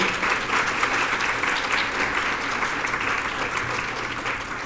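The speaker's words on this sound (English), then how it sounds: "Let's give all of our winners and all of our council members and all of you here today a giant round of applause." An audience at a women leaders awards program gives a sustained round of applause, dense clapping that stays steady and slowly tapers.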